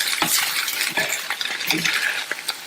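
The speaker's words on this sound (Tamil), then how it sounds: "நல்லா ஒரு தடவை மிக்ஸ் பண்ணி விட்டுட்டு ஸ்டவ் ஆஃப் பண்ணிடலாம்." Spatula stirring a spiced potato curry with green chillies and coriander leaves in a pan, quick scraping strokes and soft clinks over a light sizzle, close and without talk.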